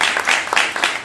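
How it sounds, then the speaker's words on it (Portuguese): A crowd at a Brazilian discussion circle on African-matrix religion breaks into applause for a speaker, a short burst of dense, bright clapping. "agradecer imensamente com uma salva de palmas ao Rafael"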